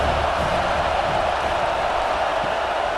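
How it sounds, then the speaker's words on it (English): Steady, dense roar of a stadium crowd at a college football game between South Alabama and Auburn, a continuous wash of voices and noise without distinct peaks. "This crowd bringing the energy and noise early."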